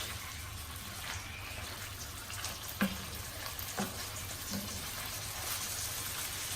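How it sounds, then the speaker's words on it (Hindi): Chicken sizzles and fries steadily in a pan while its juices cook off, with a few soft knocks of a spoon or spatula stirring over the constant hiss. "इसको हम 1 मिनट तक ऐसे ही फ्राई करेंगे।"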